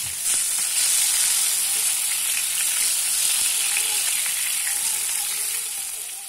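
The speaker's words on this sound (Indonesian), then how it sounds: "kita tumis-tumis atau kita goreng sampai cabai tomat dan bawangnya itu layu ya" Chili, tomato and shallots fry in hot oil for sambal, giving a steady, loud sizzle and hiss that holds throughout with faint stirring clicks and no voices.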